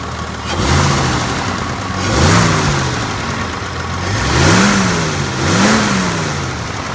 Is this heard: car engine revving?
yes